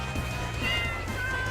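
Cats meowing in the Deltarune video game, a couple of short mews over a steady humming game music bed, fairly close and clear with no talking.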